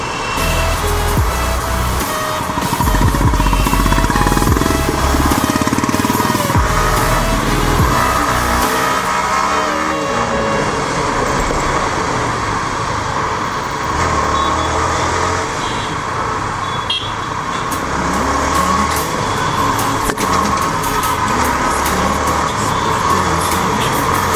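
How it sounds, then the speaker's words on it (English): Heavy Sunday road traffic in Hyderabad with buses and taxis, a continuous dense roar of engines and tyres close by, with passing vehicles swelling and fading and a loud rumble early on. "Full on traffic time this is. Travel bus, taxis, even in Sunday."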